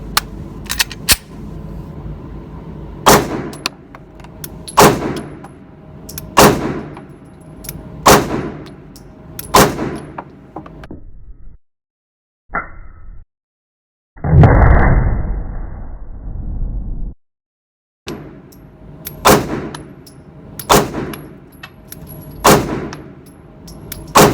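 A CZ P10-C pistol fires a full magazine in sharp, loud single shots spaced irregularly, with a brief pause partway through before more shots follow.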